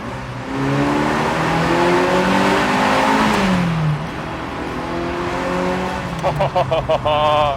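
A Ferrari 328 GTS engine revs hard and roars in a tunnel, rising and then dropping in pitch, echoing loudly, followed by sharp bursts of throttle near the end.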